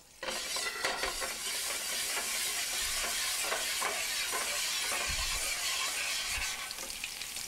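About eight cloves of fresh minced garlic sizzle in olive oil in a pan, a loud, continuous crackling hiss heard up close with no talking.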